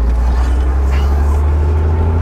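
Idling engine of a car fitted with a 123 ignition distributor, running rough with a misfire: a steady, loud low rumble with uneven pulsing, heard alone and close up.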